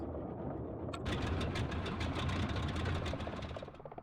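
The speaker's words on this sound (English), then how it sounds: "now we can shut down our engines" Boeing 247D piston engines running down to shutdown in Microsoft Flight Simulator 2020, a steady loud rumbling drone that holds, then begins to fade toward the end.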